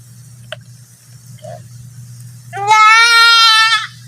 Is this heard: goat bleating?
yes